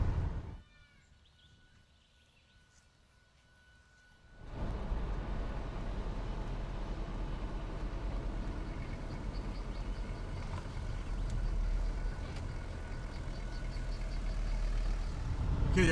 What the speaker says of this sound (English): These OM617s are brilliant motors.